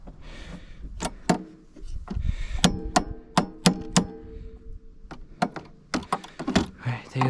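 Hammering on a Fox Float 3 shock during installation on a Summit snowmobile: a series of sharp, close metallic strikes in irregular clusters, with people talking in between.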